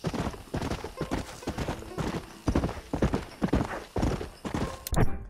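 Horse hooves in the Red Dead Redemption video game: a brisk, rhythmic clip-clop of galloping hooves, close and steady, with a whinny near the end.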